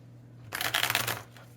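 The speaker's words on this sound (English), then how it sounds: "so to start, we're going to shuffle the deck." A deck of Clash of the Elementals cards is riffle-shuffled close up, a quick burst of fluttering card snaps lasting under a second, then a soft settling tap.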